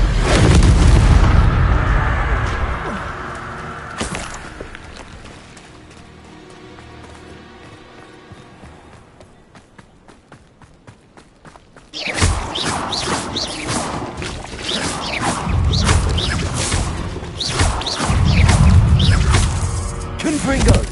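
Spell casts from the video game Hogwarts Legacy, Confringo and Expelliarmus, come as loud booming blasts and crashes over a dense game score, thinning out mid-clip before a fresh burst of heavy impacts.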